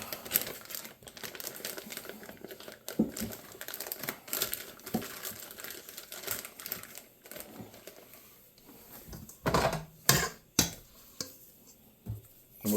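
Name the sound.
opening a Ziploc bag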